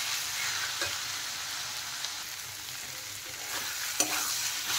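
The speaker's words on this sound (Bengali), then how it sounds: "এখন আমি এর মধ্যে দিয়ে দিচ্ছি ভেজে রাখা আলু আর নারকেল, দিয়ে মশলার সাথে আরেকটু ভালোভাবে কষিয়ে নেব।" Chicken pieces, fried potato and coconut are stirred and sautéed with spices in a pan, giving a steady close sizzle with a few soft clinks of the spoon against the pan.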